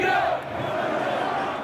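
A large crowd of Hirak protesters gathers in Algeria, making a broad, continuous roar of many voices with shouting that is loudest at the start and then holds steady.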